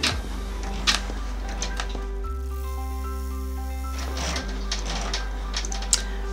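An embroidery machine runs a placement stitch through tearaway stabilizer, a close, steady mechanical whir with rapid needle chatter that shifts to a smoother, tonal hum midway before returning to the clattering rhythm, with no voices.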